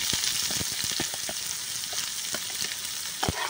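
Onion fries in a pan with a continuous bright sizzle close by, punctuated by quick ticking stir and spatula knocks.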